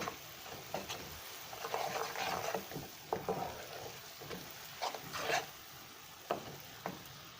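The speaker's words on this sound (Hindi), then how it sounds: "2 मिनट भूनने के बाद" Spices, ginger, garlic and tomato paste sizzle in a karahi for kabab karahi. A soft steady frying hiss runs underneath, broken by several sharp scraping spoon stirs at close range.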